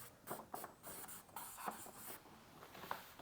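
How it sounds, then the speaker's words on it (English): A pencil or pen scratches across paper in short bursts of strokes, quiet and close, with brief pauses between marks and no talking. "Let me write down."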